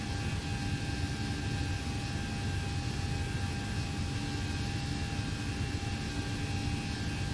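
Jet airliner engines, such as a 737 or A321, held at climb throttle in the X-Plane 11 flight simulator, a steady loud roar with a constant whine layered on top, unbroken and without talk.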